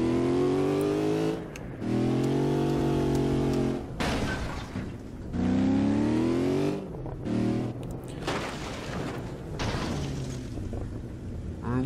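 A Mitsubishi Lancer driven in a video game, its engine droning and rising loudly in repeated revving bursts, broken by short gaps and harsher crashing noises, with no speech heard.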